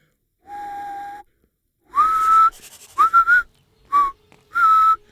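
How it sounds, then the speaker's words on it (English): Characters in the video game Fable Anniversary whistle a short tune: one sustained note, then a run of bright, rising phrases broken by brief pauses, clear and close with no talk. "I love the whistle they do here."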